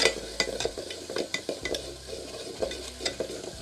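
Misal mix masala roasting in oil for a home-style sprouted moth bean usal, a soft sizzle with frequent quick scraping and clinking strokes of a spoon against the pan, close and uneven, no talking.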